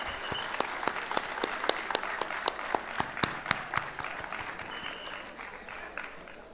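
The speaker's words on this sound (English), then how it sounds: "let's give them a warm round of applause" Audience applause at an India Today HR conference, a room of people clapping with distinct sharp individual claps standing out over a steady patter, slowly tapering toward the end.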